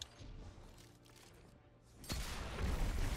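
A rifle shot from the exotic pulse rifle in Destiny 2 cracks out loudly after a quieter stretch of ambient game noise, its boom lingering briefly.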